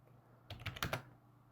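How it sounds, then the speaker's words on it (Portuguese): Quick burst of about six keystrokes on a computer keyboard, typing a short word into a web search, close and clear over a quiet room hum, then stillness. "você vem aqui no Google, digita aqui Python"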